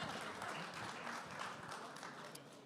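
Audience applause at a business event, a dense steady wash of clapping that holds loud and even throughout, with no voices heard over it.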